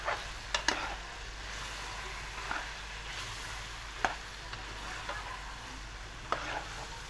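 Chicken curry with red chili and turmeric being stirred in a pan, a steady low sizzle with occasional sharp scrapes and clinks of the spoon, close and quiet.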